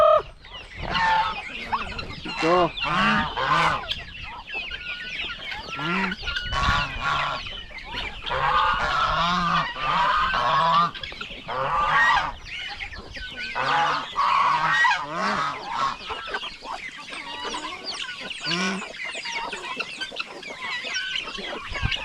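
Turkeys and other farm poultry call on a farm in a dense, overlapping chorus of gobbles, honks and clucks, many repeated bursts close by, with occasional brief human speech.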